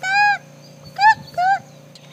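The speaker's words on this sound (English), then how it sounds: "Okay, a chicken." A chicken squawks three times, one long loud cry then two shorter ones, close by over a low steady background hum.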